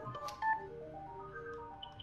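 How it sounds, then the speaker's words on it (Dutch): A push-button telephone dials a number, giving a quick run of short electronic keypad tones. The beeps are fairly faint and tightly spaced. "Nou, dan ga je op de telefoon."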